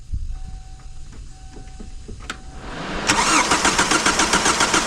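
A Kia Sportage with a fuel problem cranking over, with a few faint clicks and then a loud, steady, rapid mechanical chatter close by, with no voices.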